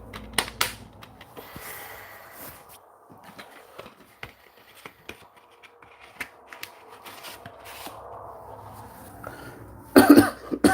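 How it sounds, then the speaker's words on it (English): A person coughs quietly in a few sharp bursts, with small handling clicks and rustles around them and a louder burst of noise near the end. "Sorry, it's just coughing."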